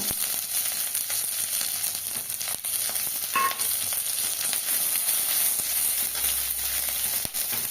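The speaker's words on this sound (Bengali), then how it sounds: "গ্রেট করা আদাটাকে ভালো করে একটু নাড়াচাড়া দিয়ে আমি কাঁচা লঙ্কার চেরাগুলো দিয়ে দেবো।" Grated ginger and slit green chilies frying in oil, giving a continuous dense sizzle and crackle with a few faint clinks of a stirring utensil, close and steady throughout.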